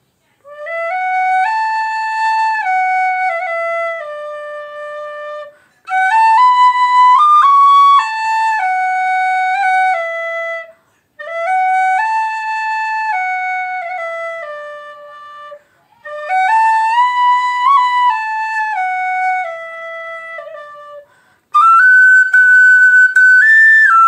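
A Clarke Original Silver D tin whistle plays a clear, bright melody in five separate phrases with short pauses between them, close and loud with no talking.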